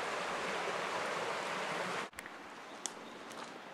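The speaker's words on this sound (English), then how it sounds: "Nice flow of water, nicely shaded." A brook flows steadily through shaded woods, its broad rushing wash close and constant before cutting off abruptly, leaving quieter ambience with a few faint ticks.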